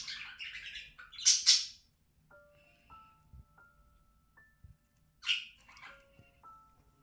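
A featherless pet budgie chick gives sharp, high chirps in a few short bursts, with quiet pauses and faint tonal beeps in between, heard close in an otherwise hushed room.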